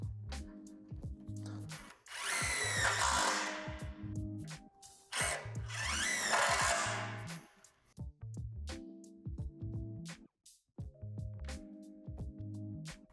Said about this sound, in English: secure the poles together by inserting the self-tapping screws into these holes